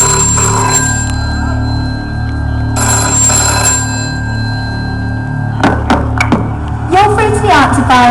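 A telephone at the Brainiac HQ live stage show rings in two loud, clear bursts before a recorded answerphone message starts speaking.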